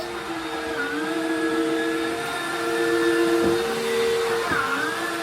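A new household vacuum cleaner runs steadily and fairly loud in a home, its motor whine holding a constant drone with slight shifts in pitch as it picks up debris, with no one speaking.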